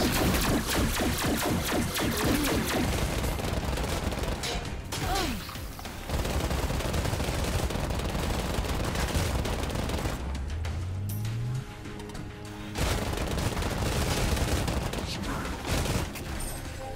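Maxi gun with an electric zap upgrade firing in the video game Bombshell, a loud continuous barrage of rapid shots and blasts lasting nearly throughout, with brief pauses and a voice occasionally under the noise.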